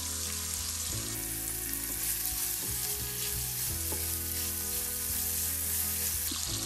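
Dried tofu sizzles and fries in a hot wok with celery, seasoned with cooking wine and soy sauce, a loud continuous sizzle with scraping stirs from a spatula over it.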